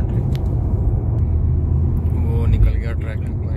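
Car cruising at speed around 80+ through Kuala Lumpur, a steady low road rumble and engine drone heard from inside, continuous throughout with faint voices under it.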